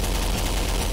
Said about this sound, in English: God, I am going deaf from the gunfire